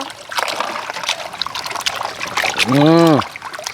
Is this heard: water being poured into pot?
yes